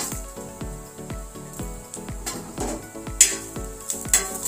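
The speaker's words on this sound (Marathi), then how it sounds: "थोडं तेल टाकून मिरचे छान भाजून घ्यायचे आहे।" Chillies roasting in a little hot oil for a Maharashtrian tur dal amti give a steady close sizzle, with regular scraping stirs and a few brief clinks of a utensil against the pan.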